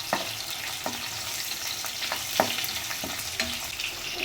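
Onion and kasuri methi fry in hot oil for a crab green masala, a steady close sizzle with small clicks and scrapes from stirring.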